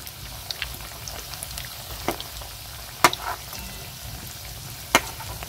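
Food fries gently in a pan with a soft steady sizzle and scattered pops and spits, two sharper crackles standing out, close and fairly quiet with no voices.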